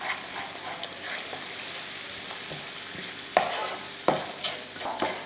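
Eggs and salt get stirred into tomato masala in a frying pan: a soft continuous sizzle underlies scraping strokes of a spoon, with a few sharper knocks against the pan near the end.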